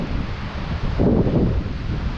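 Steady, heavy wind buffets the microphone with a constant low roar that swells briefly midway, outdoors in Scotland.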